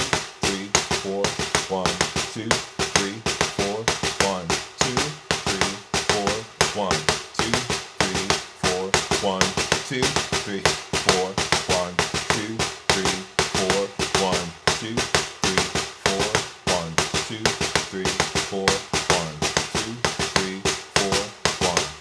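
Rapid percussive taps in a 13-count rhythm, two groups of four then one of five, repeating in a steady, dense cycle at close range while a voice speaks over the pattern.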